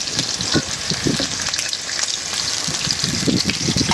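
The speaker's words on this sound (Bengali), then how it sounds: "এই যে মাছটা হালকা ভাজা দিয়ে নিলাম," Pieces of a large snakehead fish shallow-fry in a wok, a dense, steady sizzle with sharp spattering pops and occasional bursts, close and loud with no speech.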